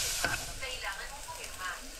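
Onion and garlic sizzle in hot oil in a pan for a Filipino fish soup, a steady close frying hiss with faint stirring scrapes running throughout.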